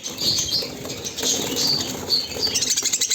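A small bird in a cage flapping its wings in quick, rapid bursts as it is being caught, close and fairly loud, with a fluttery rattle that grows more rhythmic toward the end.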